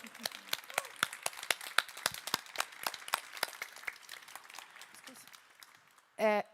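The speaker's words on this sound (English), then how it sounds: "We are going to give them a big round of applause just in a second." A small audience at an embassy movie-night discussion in Vilnius claps for the guests: sparse, uneven individual claps close by for about six seconds, then a brief voice at the end.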